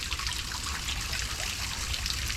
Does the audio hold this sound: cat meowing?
no